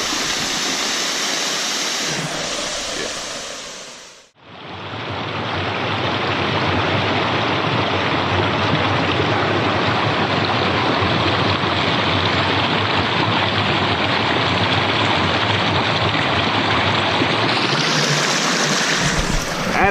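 Creek water and a waterfall on the Buffalo River Trail in snow rush in a loud, steady broadband roar close by, briefly dropping out before returning at full strength with no talk.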